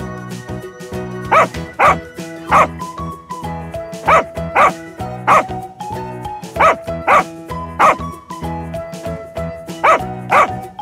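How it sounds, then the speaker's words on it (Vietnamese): Dog barking in repeated short bursts, about a dozen evenly spaced barks over steady background music, clear and close. "Con chó."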